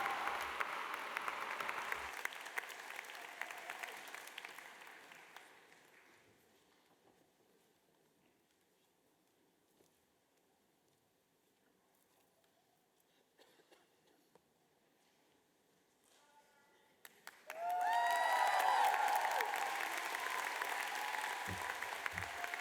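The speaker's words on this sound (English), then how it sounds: "Give her a big round of applause." Graduation ceremony crowd applauding loudly at first, the clapping fading to near quiet in the middle before rising again into strong, full applause with a few cheers near the end.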